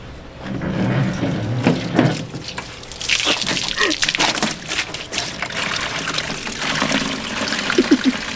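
Pond water pours and splashes into a cooler, with irregular gushing and trickling bursts, close and moderately loud, plus occasional knocks and handling noises.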